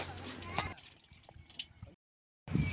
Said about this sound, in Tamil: இப்போ மீனை நல்லா அலசி எடுத்துக்கலாம்.